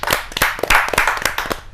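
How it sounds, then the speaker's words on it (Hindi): Audience at a Hindi kavi sammelan poetry gathering claps to welcome a poet, a short burst of lively hand clapping, loud and close, with no speech over it. "आप तालियों से स्वागत कीजिए देव कुमार पंवार जी।"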